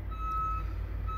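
A truck idles with a low rumble close by while a steady electronic beep tone sounds over it.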